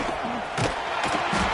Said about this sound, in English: they're trying to rattle their eardrums. Listen to this crowd.